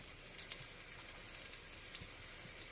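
Big meatballs browning in a pan, a continuous faint, even frying sizzle with a few soft pops, no voices.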